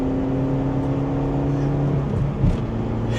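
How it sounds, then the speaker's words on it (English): A Chevy Spark small hatchback pulls hard along a dual carriageway, its engine droning steadily with a rising whine heard from inside the cabin, loud and continuous, with a brief vocal sound near the end. "now I could really push the Chevy Spark"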